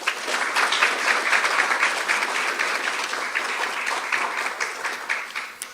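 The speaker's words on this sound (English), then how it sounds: "Please give a round of applause to these students" An audience applauds steadily for nursing students honored with purple and white cords at a senior recognition ceremony, the dense clapping holding loud and even for several seconds before tapering slightly at the end.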